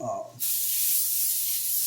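After a brief voice, a can of non-stick cooking spray hisses onto a cast iron press in one sustained, bright, close-up burst lasting over a second.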